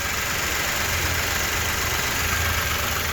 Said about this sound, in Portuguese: o Logan da esposa do Fernando, o motor já funcionando